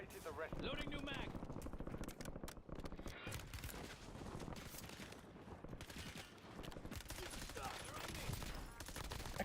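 Dense, continuous rapid gunfire and bursts in the Warzone video game, loud and sustained throughout with almost no pause, overlapping volleys under a faint voice.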